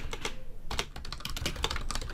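Rapid typing on a computer keyboard, a dense close run of key clicks and taps that carries on steadily throughout, with no voices.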